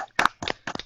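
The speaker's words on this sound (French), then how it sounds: "Je applaudis." Three crisp hand claps at an even pace in a French TV studio show celebrating the 1998 World Cup win, close and fairly soft, with quiet gaps between them.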